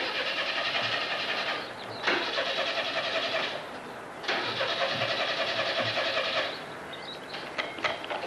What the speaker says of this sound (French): Ma voiture ne démarre pas, je prends la tienne.